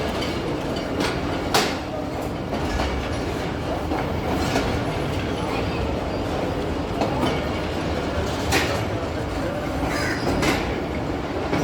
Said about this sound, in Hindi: ट्रेन अब रावलपिंडी रेलवे स्टेशन से मूव कर रही है,